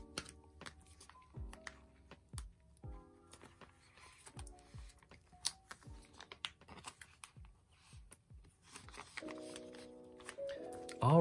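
Photocards being slid into plastic binder sleeves: a run of crisp, close plastic crinkles, taps and sliding rustles in irregular bursts, with soft thumps, alone and without talk.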